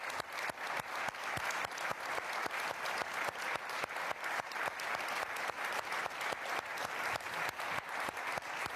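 Sustained audience applause fills a large hall at the Munich Security Conference, a dense, steady clapping that continues evenly for nearly nine seconds without voices.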